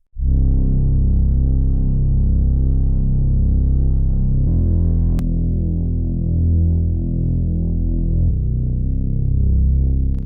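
An Arturia Mini synthesizer plays a deep, sustained bass tone with its high frequencies rolled off, sounding dark and throbbing as the notes shift every few seconds, loud and alone.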